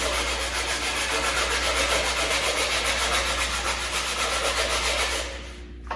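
Wood boards on a workbench tool holder are sanded smooth with 150 grit sandpaper, likely by a power sander, a loud continuous rough hiss with a steady motor hum that stops abruptly near the end.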